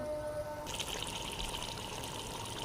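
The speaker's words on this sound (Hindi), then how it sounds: "थोड़ा सा पानी डाल देंगे," A little water is poured into chicken kadai cooking in a pan, giving a faint, brief splashing hiss that starts abruptly and runs steadily to the end.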